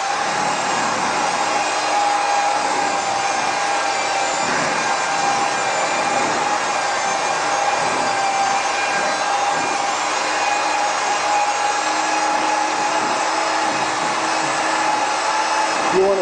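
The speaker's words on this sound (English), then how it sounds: "just moving the dispersion blade up and down in a turning type motion will start to loosen that coating" A dispersion blade on a power mixer turns through hot pipe coating, a loud continuous whirring drone with a steady tone and slight swells as the blade moves up and down.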